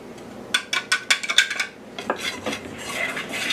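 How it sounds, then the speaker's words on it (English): Metal whisk clinks rapidly against a mixing bowl while blending flour and cornstarch, a quick run of sharp scraping taps up close, then softer stirring rustles as it settles. "Just a little whisk."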